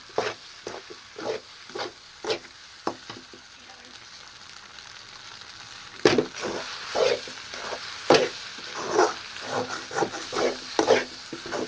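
Egg parotta being tossed and mixed with pepper powder in a hot pan, with irregular scraping and clattering strokes over a steady sizzle, sparse at first then busier and louder in the second half.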